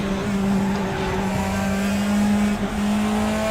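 A Mazda MX-5 lapping in a racing video game, its engine holding a steady high drone with slight pitch shifts as it accelerates and lifts, no voices over it.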